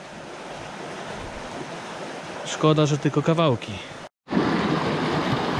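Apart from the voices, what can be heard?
fast-flowing river water rushing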